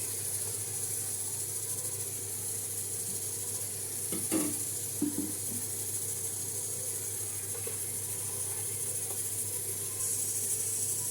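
Beef curry simmering in a pan, a steady low sizzle and hiss running throughout, with a few brief scraping stirs of the spoon near the middle; no voices.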